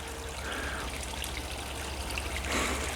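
Water drains out of the ground in a swampy area with a high water table, a steady, close trickle and gurgle running continuously under faint outdoor hiss.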